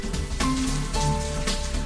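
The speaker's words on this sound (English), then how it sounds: "heavy rain and a waterlogged track prevented Keshorn from being able to throw the javelin" Heavy rain falls steadily on a waterlogged athletics track, a loud dense hiss that fills the whole stretch with a faint tonal hum beneath it and no voices.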